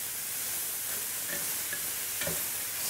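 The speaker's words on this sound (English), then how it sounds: "so before that I'm just going to add in those tomatoes." Tomatoes are stirred into mushrooms and bacon frying in a pan, giving a steady sizzle with a few soft scraping knocks of the stirring utensil, close by and with no talking.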